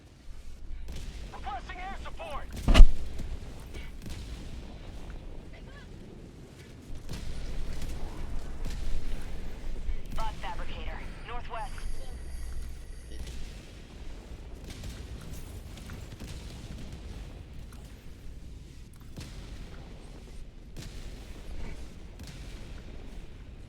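Orbital artillery barrage in Helldivers 2, with a single big boom near the start and scattered distant blasts rumbling on through the rest, mostly under ongoing talk and game noise.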